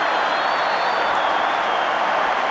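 Cricket crowd roaring and applauding a bowled wicket in a match involving New Zealand: a loud, sustained wall of cheering and clapping from a large stadium audience, steady throughout with no break.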